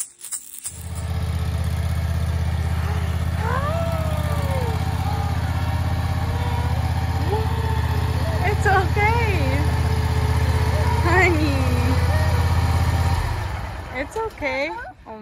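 A tractor engine idles steadily at close range with a low, constant drone that holds for about thirteen seconds and then cuts off, while a voice talks over it.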